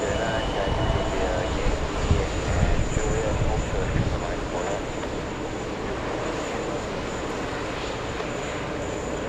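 An airliner bound for Bogota rumbles at JFK airport before taxiing, a steady distant engine roar with louder swells early on, then settling into an even drone.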